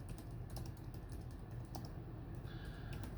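Typing on a computer keyboard for a Google search, a quick, irregular patter of key clicks that is faint and close, heard on its own without talking.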